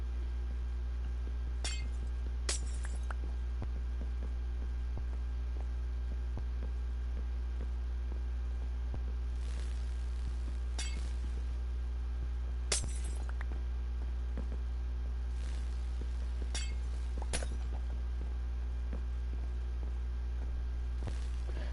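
Sharp glass clinks from glass blocks being mined with Silk Touch in Minecraft ring out several times at irregular intervals, bright and brief, over a steady low background hum.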